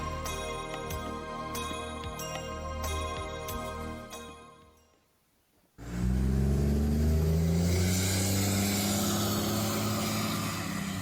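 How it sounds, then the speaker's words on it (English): A car engine starts with a jingly, tinkling run that fades to near silence, and then a loud, steady, low-pitched engine rumble kicks in abruptly and holds to the end. "you're just hearing the low pitch noise instead of the high pitch moan of the engine"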